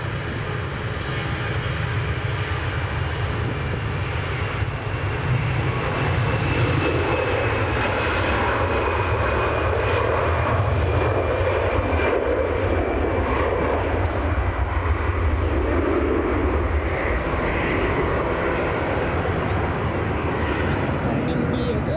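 A plane taking off at Manchester Airport gives a loud, steady engine roar that holds for the full stretch, a broad continuous rumble that stays close and strong throughout.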